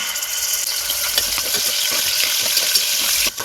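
Pieces of mutton fat frying in hot oil in a pressure cooker, a steady, close crackling sizzle with dense hiss and small pops throughout, no voices.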